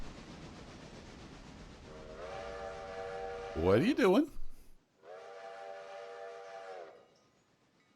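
A train whistle sounds in two long blasts, the second clear and sustained, from an approaching train in a railroad simulation, with a speaking voice cutting in between the blasts.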